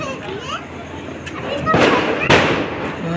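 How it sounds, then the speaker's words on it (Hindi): Firecrackers go off during Diwali celebrations as two sharp bursts a short way off, over a noisy outdoor background with scattered crackling and voices. "तो नेक्स्ट पटाखा बजने वाला है, इसको कोशिश करते हैं कैप्चर करने की।"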